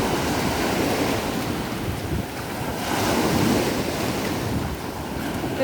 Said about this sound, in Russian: Это волны, вот это мощь.